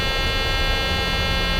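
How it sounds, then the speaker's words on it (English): Boeing 737-700 configuration warning alarm in Microsoft Flight Simulator, a loud, continuous harsh buzzing tone that holds steady and close throughout with no break, no speech. "That alarm we're getting is a configuration warning."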